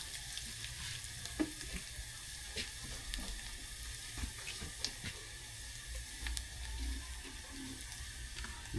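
Garlic and onion sizzle steadily in a hot pan for a Filipino home-cooked dish, a constant frying crackle broken by occasional stirring clinks and scrapes, with no voices.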